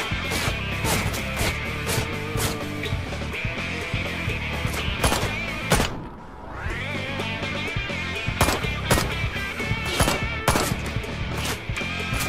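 Gunshots in the video game Ride to Hell: Retribution ring out in a rapid, irregular burst of loud sharp cracks over a steady in-game background, with a brief lull midway before the firing resumes.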